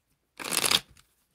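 A single quick riffle shuffle of playing cards, a crisp papery burst lasting under half a second, followed by a faint settling flick.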